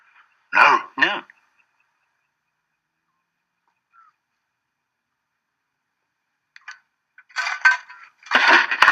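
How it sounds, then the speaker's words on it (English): Two short throat-clearing coughs up close, then a long silence before more brief vocal bursts near the end. "Did you hear a cough?"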